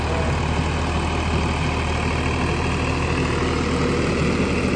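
A steady, low tractor engine rumble idles continuously without change on a Punjab rice farm, loud and close, with no voices over it.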